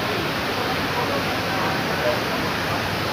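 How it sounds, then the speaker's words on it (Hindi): A fountain at the Makkah Clock Tower area throws up water with a steady, broadband splashing rush that holds without a break, fairly close and loud. "ये देखें भाई, ये आ रहा फवारा"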